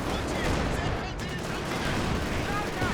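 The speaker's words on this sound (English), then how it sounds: "Here comes a COH2 barrage." Continuous rumbling barrage of explosions and gunfire in Company of Heroes 2, a dense, loud wash of blasts with overlapping crackle lasting throughout, with no clear gaps.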